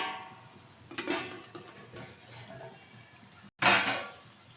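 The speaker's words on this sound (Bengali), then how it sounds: "ঢাকনাটা তুলে দিচ্ছি।" A lid is lifted off a cooking pot of coconut milk chicken on the stove. Two distinct metallic clinks stand out against a quiet background, the second one louder and sharper.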